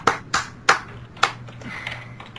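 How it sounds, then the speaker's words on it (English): A single person claps by hand, four crisp separate claps in an uneven rhythm, close and clear, then stops over a faint steady background hum. "I'm clapping."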